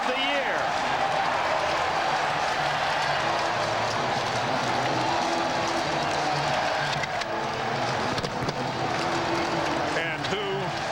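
Stadium crowd at an NFL game between Buffalo and New England roaring and applauding after a touchdown, a dense sustained wash of cheering in the background while a commentator talks over it.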